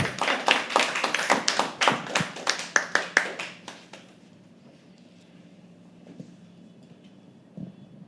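Audience at a live poetry open mic claps in a burst of sharp, rapid hand claps that dies out after about four seconds, leaving quiet room tone with a faint thump near the end.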